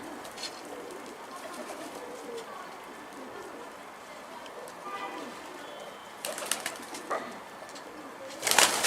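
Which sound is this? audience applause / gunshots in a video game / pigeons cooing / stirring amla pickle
pigeons cooing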